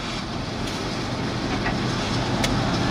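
A giant freight train with six engines, 275 cars and 36,000 tons, roughly 3.5 to 4 miles long, rolls steadily past nearby, a continuous loud rumble with faint rhythmic wheel clatter and no pause.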